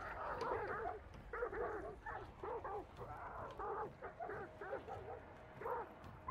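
Dogs in a video game bark and yip in quick repeated bursts, fairly close and loud, with short whimpering yelps between the barks and a steady low background hum throughout.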